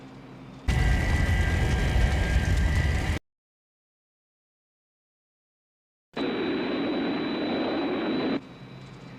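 Thunderbird 2 aircraft on final approach, a steady loud broadband engine roar in two bursts separated by a few seconds of total silence, with no voices.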